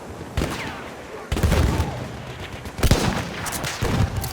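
Gunfire in the video game Battlefield 1, a mix of sharp single cracks and rattling bursts from nearby and farther off, with explosive thumps among them and excited voices talking over the fighting.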